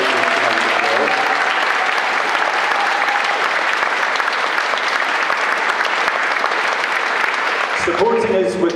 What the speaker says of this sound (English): can I show a huge round of applause for our visitors tonight